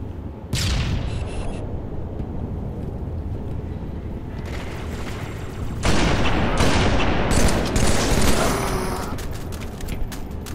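Sniper rifle shots ring out in a Halo: The Master Chief Collection match, sharp loud cracks over a steady bed of game noise, with a denser burst of firing and booms in the second half.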